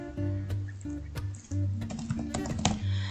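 Fingers typing a name on a computer keyboard, a quick irregular run of close, crisp key clicks with short pauses and soft speech in the background.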